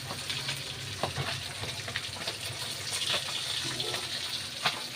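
Galunggong fish frying in hot oil, a steady close crackling sizzle with scattered pops and small clinks throughout.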